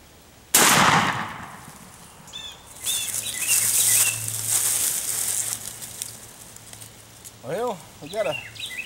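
A shotgun fires once at a pattern target outdoors, a sharp loud blast followed by rustling and faint bird calls at the end.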